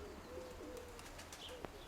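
Soft pigeon coos come through quietly over a faint background hum, with a few low murmuring calls spread across a couple of seconds.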